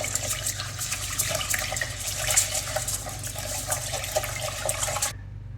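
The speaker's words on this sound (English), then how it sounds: "So I'm gonna wash this about 3 times, just in case." Tap water runs steadily into a bowl as rice is rinsed, a close, continuous splashing and gurgling that stops abruptly at the end.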